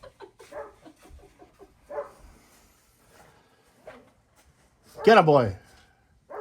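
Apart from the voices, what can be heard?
dog barking at a chipmunk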